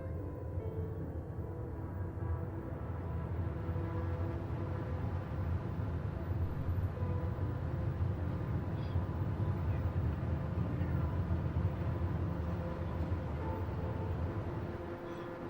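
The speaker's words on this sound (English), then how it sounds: "Okay, that was a good takeoff." An airliner's engines hold a steady, broad roar during takeoff in Microsoft Flight Simulator, with no one speaking.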